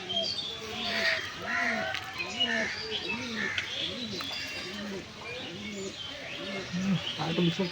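A Madrasi single pigeon, wings tied, coos close by in a steady run of soft, repeated throaty coos, while someone talks intermittently in the background.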